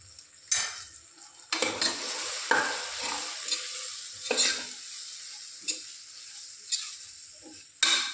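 Vegetables sautéing lightly in oil in a pan, with a faint sizzle and a few separate scrapes and clatters of the spoon as the pieces are stirred, heard close and without talk.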